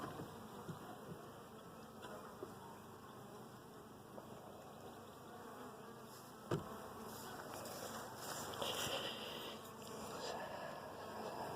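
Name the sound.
honey bees buzzing on a hive frame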